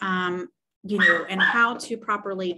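A dog barks and whimpers in the background of a home recording, its sharp calls overlapping a woman's steady speech close to the mic.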